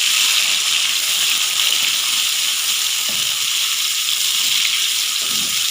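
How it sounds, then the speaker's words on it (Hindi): Tomatoes and green chilies frying in a pan for an eggplant masala, giving a steady, loud, close hiss of sizzling oil that runs without a break, with a few faint stirring knocks. "जब तक टमाटर सॉफ्ट नहीं हो जाते इसे भी हम फ्राई कर लेंगे"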